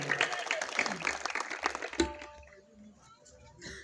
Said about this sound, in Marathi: एवढं पूर्ण भारत देशाने एकदा जोरदार टाळ्या वाजवा